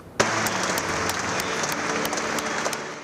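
Mourners at Alex Zanardi's funeral ceremony break into sustained applause, starting abruptly and holding as a dense, steady wash of many hands, with faint tonal music beneath.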